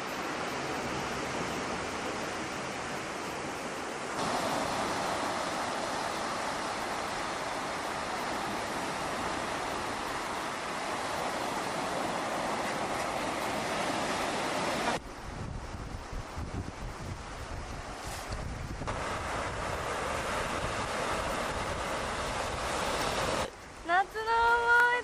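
Ocean waves at the sea make a continuous broad roar of surf mixed with heavy wind buffeting the microphone, with the intensity shifting partway through.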